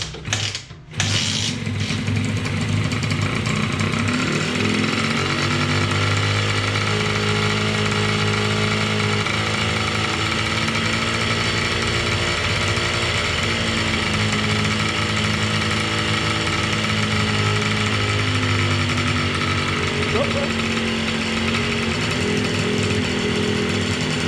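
A small 80cc kart engine, freshly tuned, runs steadily close by for the whole stretch, a continuous buzzing, mechanical drone with a rattly edge and no speech.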